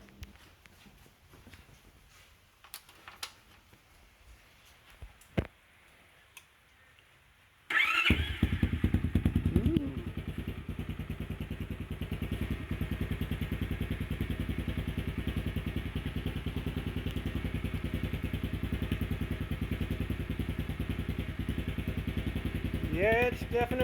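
A motorcycle fitted with a TurdPro aftermarket exhaust starts up after some quiet handling noises, then idles loudly and steadily close by with a throaty rumble for the rest of the clip.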